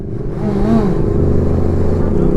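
A passing motorcycle engine drones and revs close by on a road in the Jura, with a voice speaking over it.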